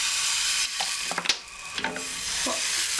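Crêpe batter hits a buttered pan and sizzles with a steady bright hiss, broken by a few soft scrapes and clinks as the batter is spread into a round.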